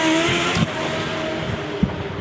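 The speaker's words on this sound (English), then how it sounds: "The revs are going up and up." A race car revs at a British Championship hillclimb at Shelsley Walsh, its engine droning steadily at close to mid range with a couple of sharp mechanical knocks, no voices.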